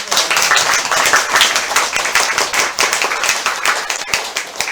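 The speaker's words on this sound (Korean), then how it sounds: "박수 한번 쳐주세요" A church congregation claps together during a Sunday service in a brisk, steady rhythm, loud and close, with sharp overlapping hand claps throughout.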